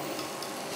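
Dosa batter with turmeric and a splash of oil being stirred in a bowl, a steady soft wet scraping and swishing texture with no voices.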